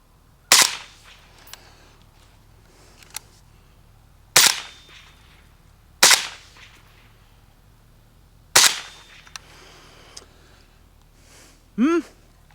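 Wolfpack Armory Romulus 5.56 rifle with adjustable gas firing four single shots spaced a couple of seconds apart, each a sharp loud crack with a ringing decay, plus a few faint clicks between.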